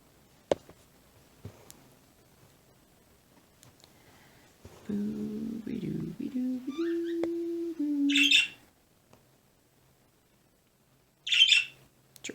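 Pet birds call back and forth indoors, a run of warbling, whistled notes and squawks in the middle, then two sharp, bright chirps after quiet gaps.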